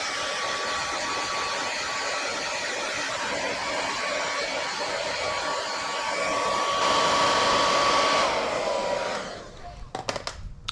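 A hair dryer blows steadily on the rear badge letters of a Hyundai Palisade, a close, constant whirring roar with a thin whine, then cuts off near the end, leaving brief clicks and handling noises.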